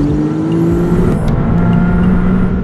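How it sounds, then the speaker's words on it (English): A Maserati MC20's mid-engine 621-horsepower V6 twin-turbo rumbles loud and close from inside the car, a steady low drone whose pitch climbs slightly under acceleration with a brief whoosh partway through. "I'm in the MC20 Maserati. It's a V6 twin turbo, mid-engine that produces 621 horsepower. It's loud as hell, and"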